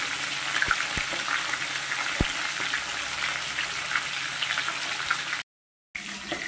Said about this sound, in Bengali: মাছের মাথা ওইদিকে ভাজা হচ্ছে